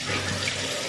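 A bathroom tap pours a steady, close stream into the sink while a face is rinsed as part of a skincare routine, an even hiss with no voices over it.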